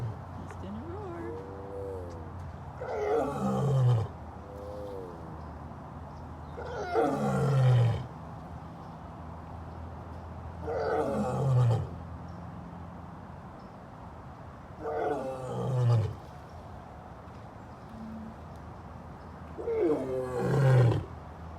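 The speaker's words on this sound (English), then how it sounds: "Just in a roar." A leopard gives its rasping, sawing roar in five separate bouts about four seconds apart, each a rough burst of low grunting breaths, moderately close, with quiet gaps between.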